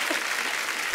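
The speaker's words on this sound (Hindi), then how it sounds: "इसमें भी तालियां हैं" Applause from a studio audience on a Hindi comedy talk show, a dense, even clatter of many hands clapping at once, loud and sustained through the brief moment.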